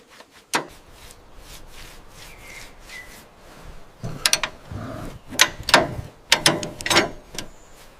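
Wrench working a rusted bolt on a WWII tank recovered from the jungle: sharp metallic clicks and grinding scrapes in irregular bursts, close, with quieter gaps between turns.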